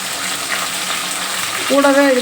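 Curry leaves, green chillies and garlic sizzle steadily in hot oil for a pepper garlic kuzhambu, a continuous close frying hiss, with a voice speaking briefly near the end.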